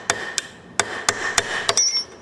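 Hammer sharply striking a chisel to pry a part off a Willys Jeep Dana 25 axle during teardown, about seven crisp metallic blows at an uneven pace, close and loud.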